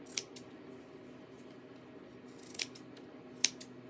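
Scissors cutting material for a dollar-store bunny craft, three crisp separate snips spaced out over a quiet background.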